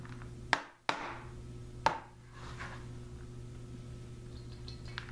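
A knife chops vegetables for fermenting on a cutting board in a few sharp, separate strikes, close and fairly loud, over a steady low hum.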